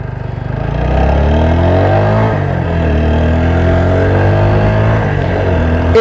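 A TVS Apache 160 4V motorcycle revving hard at high throttle, its engine note climbing loud and close through a rising, gear-linked whine that dips briefly before pulling up again, with no voices over it.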